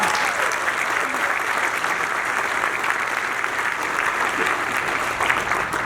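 Sustained, dense applause from a large audience fills a casino event room during a celebration in Gary, Indiana, steady and loud throughout with no break.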